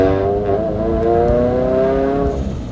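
A turbocharged Subaru BRZ with catless front pipes roars loudly and steadily, its exhaust drone holding strong harmonic tones that shift slightly in pitch before easing off at the end.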